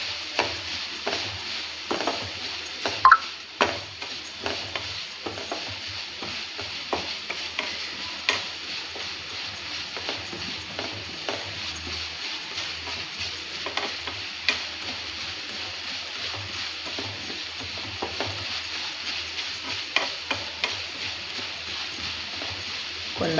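Ragi being stirred and dry-roasted in a pan over a low flame, faint scraping and light ticking strokes repeating at an uneven pace throughout, quiet and close.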